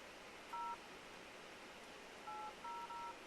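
iPhone keypad dialing tones: one short dual-tone beep, then after a pause three more quick beeps in a row, clean and quiet over faint background hiss.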